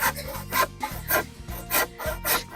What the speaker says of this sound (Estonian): Nii käib ühe selle 5x5 saagimine.